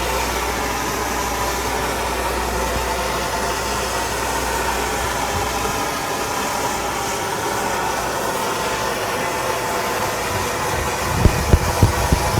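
A MAP gas torch roars steadily as it burns and darkens wood for a DIY sports table, a constant broad hissing rush that holds for the whole stretch, with a few sharp knocks near the end.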